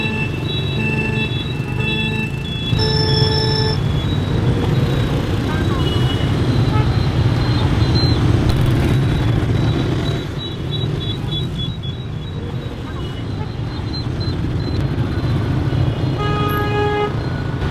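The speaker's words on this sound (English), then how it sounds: "It's very trafficated here." Busy Hanoi street traffic fills the air with a constant rumble of engines, and several car and motorbike horns toot in short bursts, some near and some farther off.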